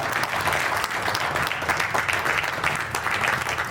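A congregation at a religious wedding ceremony in Réau bursts into sustained, dense applause, with many hands clapping together at close range and no pauses.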